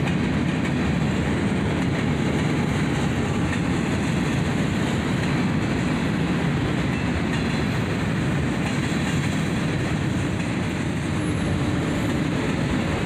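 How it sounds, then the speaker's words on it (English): Two CSX SD40-2 diesel locomotives, the leader an ex-Conrail unit and the trailer built for the Seaboard Coast Line, haul a train past with a steady loud rumble and wheel noise that fill the whole stretch. "A pair of old SD42s, the leader an ex-Conrail unit, as evidenced by its headlight above the cab."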